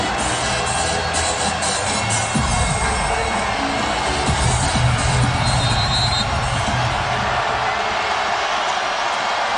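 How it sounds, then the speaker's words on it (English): A sellout crowd at an NC State women's college basketball game against Virginia Tech roars and cheers steadily through a timeout, a dense, continuous wash of arena noise with swells of shouting. "You can bet this sellout crowd is going to let them hear it."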